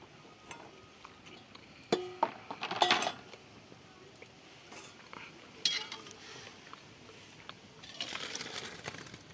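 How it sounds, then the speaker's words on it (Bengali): Boiled soybeans are poured into a pan in a home kitchen. Several clattering, clinking bursts of metal and wet splashing come in irregular clusters, close up, with quiet gaps between them and no talking. "আর সোয়াবিনটা সিদ্ধ হয়ে গেছে, আমি ঢেলে নিচ্ছি।"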